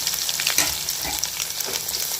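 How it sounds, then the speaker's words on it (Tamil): Finely chopped garlic hits hot oil in a pan alongside ginger for mint rice masala, crackling and sizzling up close while it is stirred, with small spits and scrapes. "பூண்டு நறுக்கி வச்சுருக்கேன், பூண்டையும் சேர்த்துக்கலாம்."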